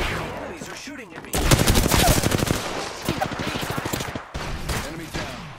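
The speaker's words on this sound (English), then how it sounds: "The enemies are shooting at me." Enemy gunfire in the Apex Legends video game, rapid automatic bursts rattling in quick rhythmic volleys, loud and close, with brief pauses between strings of shots.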